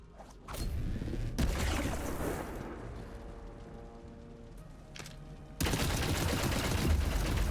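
Heavy gunfire in Borderlands 3 aimed at the moon, arriving in loud sustained volleys with mechanical clanking and creaking between them, a lull in the middle, then a final intense burst.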